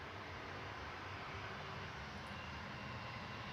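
An Airbus A321 at Manchester Airport gives off a steady, broad jet roar that stays even and moderately distant throughout, with no speech over it.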